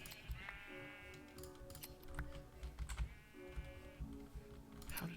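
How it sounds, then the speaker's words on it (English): Two sheep bleats from Minecraft, each a wavering nasal call, sound faintly at the start and again midway, amid rapid keyboard typing and mouse clicks. "Another sheep."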